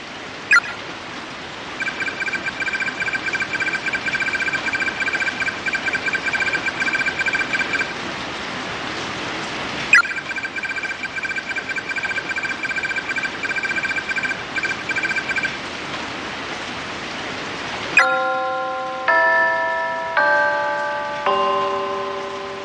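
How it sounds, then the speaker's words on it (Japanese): Steady hissing rain falls in the PC horror game Corpse Party, with faint chiming tones running over it, broken by a short pause, then giving way to a sequence of clear, bell-like notes near the end. "雨、全然止まないな。"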